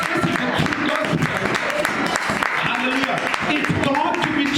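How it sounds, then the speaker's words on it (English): A church congregation claps hands together during a gospel service, a dense, continuous patter of many palms filling the room while a voice keeps talking over it. "clap your hands for Jesus"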